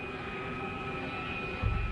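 Steady jet engine drone from a damaged airliner descending toward an airport, a continuous broadband roar with a faint tonal whine and a brief low thump near the end.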